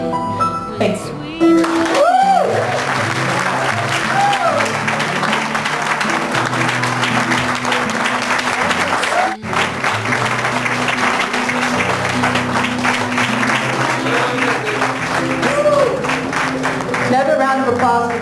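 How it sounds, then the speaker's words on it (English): Sustained audience applause fills a gala hall, loud and steady throughout, with a speaker's voice and some crowd cheering faintly under the clapping. "Another round of applause for Jessie."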